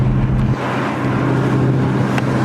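A 2018 Ford Mustang V8 running on E85 gives a deep, steady rumble heard from close by, loud and constant with no talk over it.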